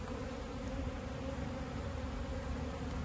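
Honeybees buzzing in a dense, steady drone during a transfer from a nuc box into a full hive, close and continuous without pause.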